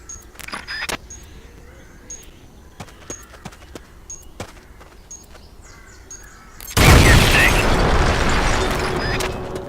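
A planted explosive charge detonates in Metal Gear Solid Peace Walker on PSP: a sudden loud, broadband bang hits about two-thirds of the way in and trails off in a long rumbling decay, after quieter game ambience with light clicks.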